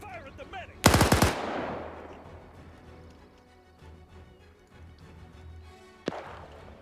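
A burst of rapid machine-gun fire erupts in a WW2 shooter game, followed by a decaying echo, distant scattered shots and one more sharp single crack near the end, with faint voices in the background.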